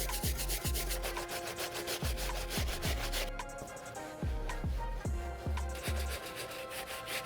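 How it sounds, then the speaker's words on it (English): A stiff brass bristle brush scrubs the soles of Jordan 3 sneakers in loud, close, rhythmic back-and-forth strokes, each one a harsh scratchy rasp, with a brief pause partway through. "So I'm gonna skip that one and move straight to using the brass bristle."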